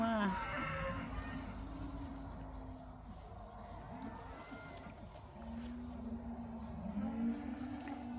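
Cows on a farm mooing: two long, low, drawn-out calls, one near the start and another later, over outdoor background noise in the morning.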